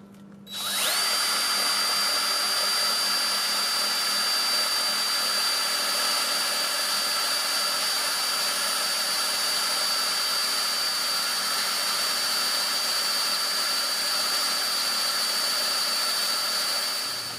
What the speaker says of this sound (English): So now all we got to do is drill the holes and feed in the supplied bolts